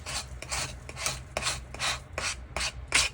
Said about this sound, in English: you probably heard the scraping, and then scrape those off